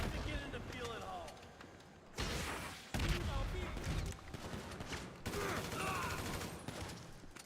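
Gunfire and explosions from the GTA V video game: a dense, chaotic fusillade of shots with heavy booming bursts at intervals, loud and close, with speech mixed in.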